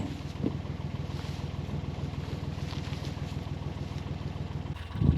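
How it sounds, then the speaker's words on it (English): A narrowboat engine chugs at a steady low idle throughout as the boat moves gently forward, close by, with a faint wind rumble and a brief knock near the end. "Just gently taking the boat forward."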